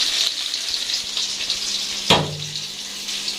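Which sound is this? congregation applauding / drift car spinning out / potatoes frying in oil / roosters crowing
potatoes frying in oil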